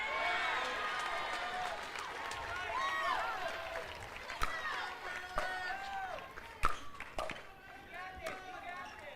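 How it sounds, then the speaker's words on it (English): A lively crowd roars steadily at the CIBC Atlanta Slam pickleball match between Federico Staksrud and JW Johnson, with overlapping shouts and whistles and a few sharp pops rising above the dense, continuous murmur. "as you can probably hear, the crowd is going bonkers on site here"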